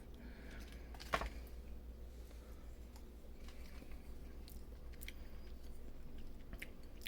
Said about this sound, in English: we're gonna try just a little bit of the cheese on its own